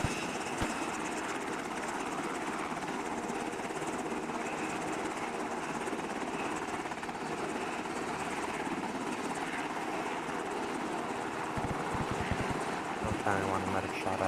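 A helicopter flies during an airsoft team-tactics exercise near a runway, its steady rotor drone sustained throughout under distant voices and radio chatter, with sharp clattering bursts near the end.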